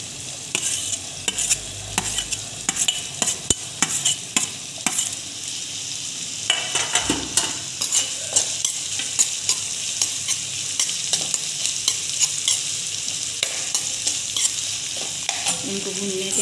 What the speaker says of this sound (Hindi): इनको भूनने देंगे, मिक्स कर लेंगे।